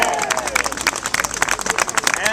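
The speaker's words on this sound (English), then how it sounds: "Give them all a round of applause" Applause from an audience at a press conference on hospital layoffs, steady clapping from a crowd sustained evenly throughout at moderate distance.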